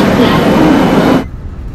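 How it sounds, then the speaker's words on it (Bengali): Train pulling into Old Delhi railway station, a loud close rumbling roar of rolling carriages that cuts off abruptly near the end, leaving quieter station ambience. "ট্রেন এসে পৌঁছে গেল নির্দিষ্ট সময় থেকে প্রায় 40 মিনিট লেটে দিল্লি। আর এই হচ্ছে ওল্ড দিল্লি রেলওয়ে স্টেশন।"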